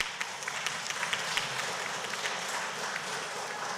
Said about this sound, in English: Let's give them a round of applause if we could.